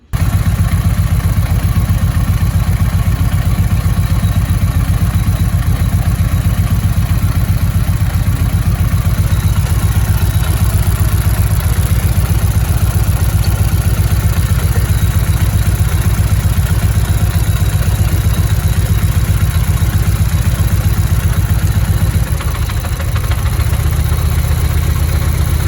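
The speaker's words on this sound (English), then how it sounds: "It sounded like it was running on 3 cylinders, almost like it was down a cylinder" A Mazdaspeed6 engine runs rough with a misfire, as if on three cylinders, giving a loud, steady, close-up drone with an uneven clattering pulse and a brief dip near the end.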